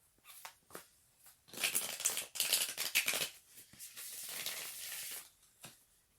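Playing cards being shuffled by hand, a few light taps and rustles building into longer bursts of crisp, close riffling and sliding, fairly quiet and with no talking.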